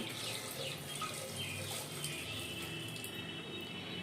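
Water poured into a pressure cooker holding taro, a soft continuous splashing stream, faint and close, with no talk.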